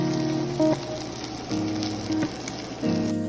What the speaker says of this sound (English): we're just gonna go ahead and let these saute. No extra oil. All the fat we need is from that chorizo